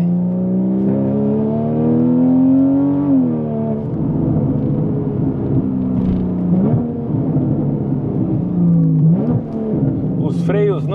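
A Porsche Cayman S 3.4 with a straight exhaust revs hard toward 7800 rpm, its loud engine tone climbing, dipping and climbing again through several pulls, with a voice talking over it.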